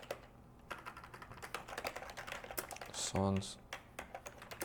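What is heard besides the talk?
typing on a computer keyboard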